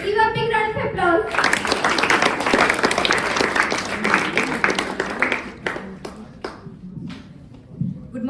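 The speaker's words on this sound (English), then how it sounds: "Give a big round of applause." Students applaud at a school event with an educational trainer, clapping swelling after a voice, holding dense and loud for several seconds, then thinning into scattered individual claps.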